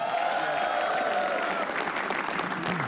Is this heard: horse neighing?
no